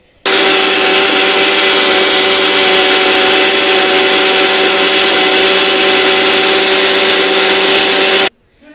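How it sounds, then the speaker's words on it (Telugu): An electric mixer grinder churns butter for ghee, switching on abruptly into a loud, steady whining motor drone that runs unbroken for about eight seconds before cutting off sharply. "ఇంకైతే ఇప్పుడు మిక్సీ వేస్తాను"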